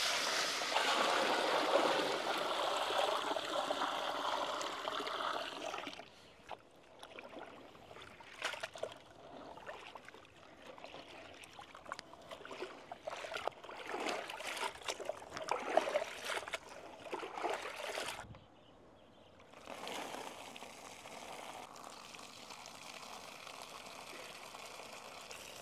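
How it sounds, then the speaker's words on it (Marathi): Five kilograms of chana dal rinsed with clean water, with splashing, trickling and swishing that rises and falls in bursts, nearby with no talk, then a quieter steady flow toward the end. "आपण आता डाळ स्वच्छ पाण्याने धुवून घेऊ।"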